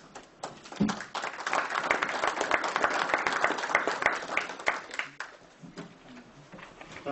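An audience at a school board of education meeting applauds a speaker, steady clapping from a room of people that swells quickly, holds for several seconds and then fades out.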